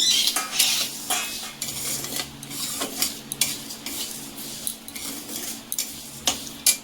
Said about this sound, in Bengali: সিমাইটাকে ভাজা হবে একটু।